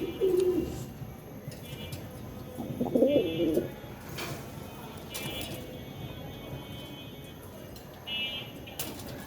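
Kalshiman-breed pigeons coo in low, throaty bursts, with two louder rounds near the start and fainter calls later, over a soft outdoor background with no talk.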